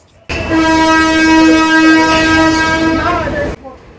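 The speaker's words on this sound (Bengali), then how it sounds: "একদম সঠিক টাইমে পুরো তিনটে বাজে তিনটের সময় আমাদের ট্রেন ছেড়ে দিল" The Tista Torsa Express sounds a loud, sustained horn blast lasting about three seconds as it departs Sealdah station, heard close and alone, with the tone bending slightly at the end before cutting off.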